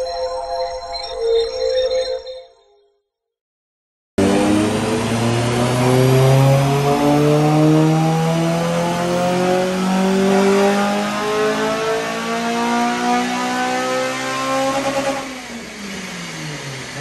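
A Honda Civic EP3 Type R with an RBC inlet manifold screams through a stock dyno power run: after a short idle and a moment of silence, the engine revs up steadily and loudly through the gears, then drops back near the end.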